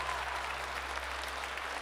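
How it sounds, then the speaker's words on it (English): Applause for a game show winner during a live gaming stream, a faint, steady patter of clapping that sounds distant or played back, lasting the whole short stretch. "let's give a giant round of applause for this week's Guess That Game Ultimate Gaming"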